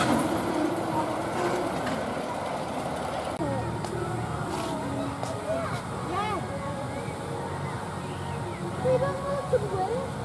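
A theme park ride train at Lightwater Valley in Yorkshire rumbles and clatters steadily along its track, with crowd chatter and voices mixed into the continuous rolling noise.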